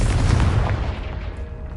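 A Confringo fire spell goes off in the Hogwarts Legacy video game, a loud close boom that hits at once and rumbles off within under two seconds.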